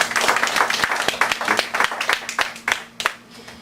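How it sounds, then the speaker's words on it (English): Audience applause for two speakers at the close of a space exploration panel debate, a dense crackle of many hands clapping steadily with a few sharper claps standing out, over a faint low hum. "can we have a round of applause for our two speakers?"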